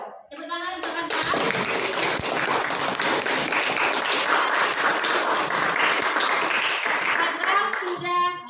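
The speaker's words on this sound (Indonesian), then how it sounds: "Tepuk tangan untuk Anda." A classroom audience applauds a student, sustained dense clapping for about seven seconds, loud and close, starting and stopping abruptly with brief voices at the edges.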